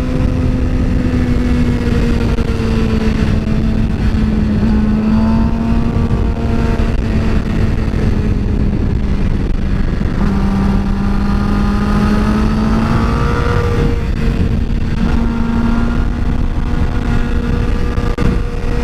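A motorcycle ridden on Florida roads gives a steady, close engine drone that rises and dips in pitch as the rider speeds up and eases off, with no talking.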